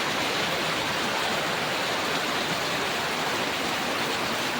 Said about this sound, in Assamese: গৰম গৰম বুলি কৈ থাকোঁতে বৰষুণ আহি যালে